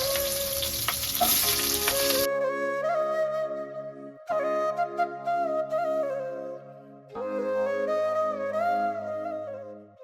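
Nigella seeds and fenugreek are tempered in hot oil for a fish curry and a ridge gourd dish. A loud, hissing sizzle lasts about two seconds, then melodic music takes over and the frying fades into the background.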